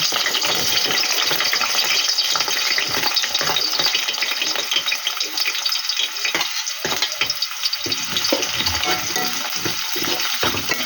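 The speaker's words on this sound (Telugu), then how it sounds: "ఆనియన్స్ బాగా వేగాలి, మూత పెడితే తొందరగా ఫ్రై అవుతుంది" Onions sizzling in hot oil in a pan, a loud, continuous bright crackle with scattered pops and occasional scraping stirs, close and steady throughout with no voices.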